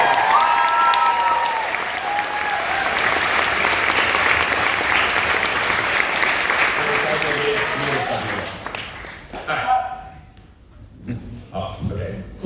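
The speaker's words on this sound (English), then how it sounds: "probably should get another round of applause for the teams that made the grand final" Sustained applause from a ceremony audience honouring debate teams that reached the grand final, dense clapping that fades out near the end into scattered claps and murmuring voices.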